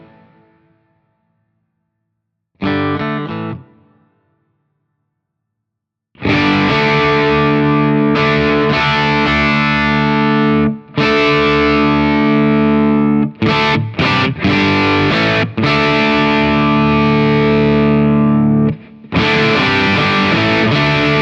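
Electric guitar through a Protein v4 pedal set for asymmetrical clipping, opening with a short strum and then loud, thick distorted chords played continuously with brief breaks.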